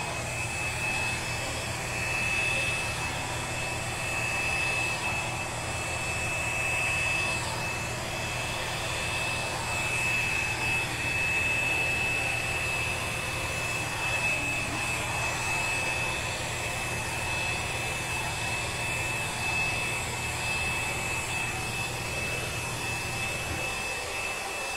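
A cheap blow dryer with no heat setting, used at an acrylic pour painting session, runs continuously as a loud, steady whooshing drone with a thin high whine, cutting off just before the end.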